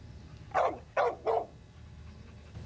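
A dog barks three times in quick succession, fairly close, against a low background hum.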